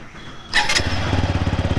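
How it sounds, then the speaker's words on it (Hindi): A TVS Apache RTR 200 4V motorcycle starts with a short electric starter whir, then the engine catches and settles into a close, loud, pulsing idle. "एंड सबसे ऑसमस्ट चीज स्टार्टर, जैसे हमने ये किल स्विच ऑन कर दिया।"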